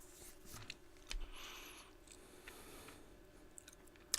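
Close-up mouth sounds of someone sucking and crunching a cough drop as hard candy, quiet wet clicks and soft chewing with a sharp crunch at the end, no talking.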